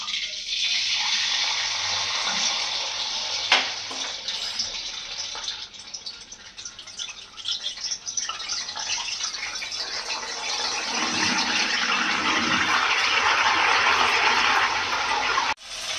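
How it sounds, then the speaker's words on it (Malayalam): Salt water poured into hot sunflower oil while frying banana chips gives a loud, steady sizzling hiss that swells and grows denser toward the end. "നമുക്ക് ആവശ്യത്തിന് ഉപ്പ് വെള്ളത്തിൽ കലക്കി വയ്ക്കാം നമുക്ക്. ഇനി നമുക്കത് എണ്ണയിലേക്ക് ചേർത്ത് കൊടുക്കാം."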